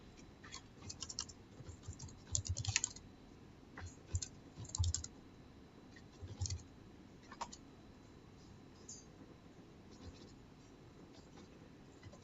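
Steady keyboard typing during work on a food-and-orders API project, with soft irregular key clicks in quick bursts and occasional louder taps, fairly close and quiet, with no talking.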